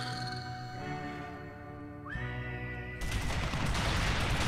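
Gunshot effects in a Wild West themed slot machine game with a sheriff badge wild, playing over tonal game music with a rising whistle-like sweep, then a dense, loud burst of noisy shots in the final second and a half.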